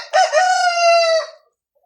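A Qora Shag'zoda rooster lets out one loud, close crow lasting just over a second, alone and clear against silence.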